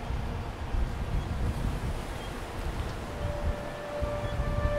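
Sea surf washes along a coastline under gusting wind, a soft, continuous low rumble of breaking water and buffeting air, fairly faint and distant, with no voices.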